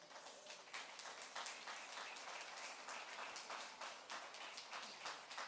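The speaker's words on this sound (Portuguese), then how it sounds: "Você pode aplaudir a Jesus." A church congregation applauds, a dense, continuous patter of many hands clapping at a fairly distant, faint level, sustained evenly throughout without voices standing out.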